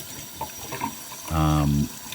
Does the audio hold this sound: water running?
yes